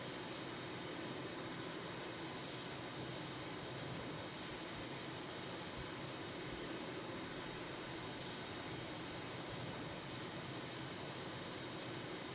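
An aircraft jet engine spools up in a flight simulator game, a steady broadband roar and whine that holds unchanged throughout, dense and constant with no talking.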